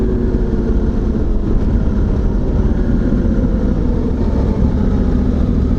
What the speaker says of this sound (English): You hear those downshifts, people? Seamless.